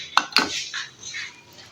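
Karahi meat being mixed with yogurt in a pot: two sharp metallic clinks of a spoon against the pot, followed by softer scraping and stirring sounds, close and brief.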